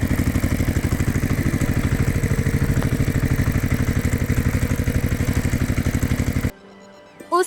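A tractor engine runs at a steady idle, a loud rhythmic thumping chug that continues evenly, then cuts off abruptly near the end, leaving quiet.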